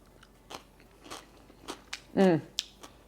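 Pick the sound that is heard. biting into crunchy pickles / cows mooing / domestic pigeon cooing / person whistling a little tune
biting into crunchy pickles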